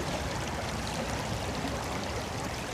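A small stream flows with a steady, even rush of water, close by and continuous, with no voices.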